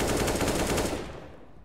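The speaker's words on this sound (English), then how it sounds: "This guy's just running and shooting." Rapid automatic gunfire in Counter-Strike: Global Offensive, a dense loud burst of shots that tails off toward the end, with no talk over it.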